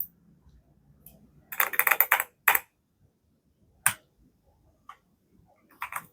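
A few scattered clicks and short bursts of keystrokes on a computer keyboard while entering text into a PowerPoint slide, with quiet gaps between taps and no talking.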